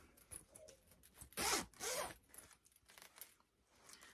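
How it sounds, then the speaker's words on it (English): A gold-coloured zipper on the insert of a Hermes Birkin 35 bag is pulled in short, quiet rasping strokes, with one longer, louder zip in the middle. "the insert has several pockets on the inside and on the outside, and a zipper, like a gold"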